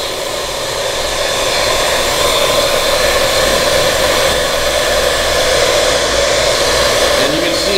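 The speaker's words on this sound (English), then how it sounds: "you can get like hair dryers that are designed for my head of hair" A hair dryer blows steadily over a freshly poured metallic epoxy countertop, a loud continuous airy whoosh that holds for the whole stretch with only slight shifts in level.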